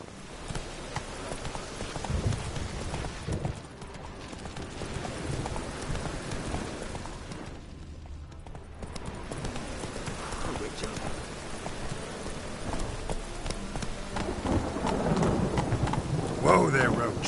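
Roach the horse galloping in Witcher 3, with a steady clip-clop of hooves under rain-like ambience and in-game voices calling out.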